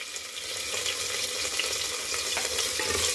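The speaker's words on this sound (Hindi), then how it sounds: "चलाते हुए आप गोभी और बीन्स को भून लें।" Cabbage and beans frying in a pressure cooker for veg biryani, a steady hissing sizzle with a light crackle that runs throughout at moderate loudness, with no talking.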